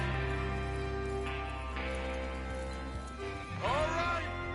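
Horses in a Western video game whinny and clop as a gang readies to ride out for a train robbery, a clear neigh rising near the end over steady game ambience and music, with someone talking.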